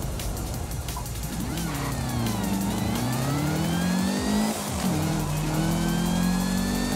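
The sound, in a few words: supercharger whine of car in video game Forza Horizon 5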